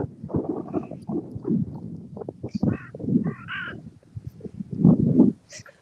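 Carrion crows caw on a walk through managed woodland near Hadrian's Wall, harsh rough calls coming in scattered bursts, fairly close and moderately loud, with no voices over them.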